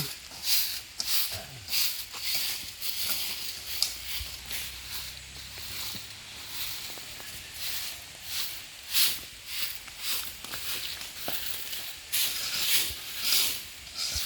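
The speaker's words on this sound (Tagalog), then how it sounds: "marinig yung tunog ng tubig." Steady broadband rushing of flowing water, a river running nearby with continuous hiss and occasional splashy surges, no voices.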